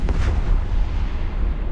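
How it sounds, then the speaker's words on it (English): Explosion in the space game EVE Online, a loud deep rumbling boom that rolls on steadily for under two seconds with no talk. "the explosions in this game are amazing"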